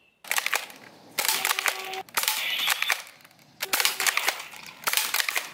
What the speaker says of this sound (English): Wow, assault rifle gel blaster gun.